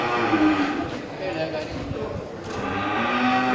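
Aceh cattle moo in low, drawn-out calls over a noisy crowd background at a busy livestock market.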